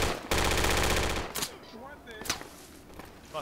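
Gunfire in a video game firefight, a loud rapid automatic burst lasting about a second, followed by a few sharp single shots amid voices talking.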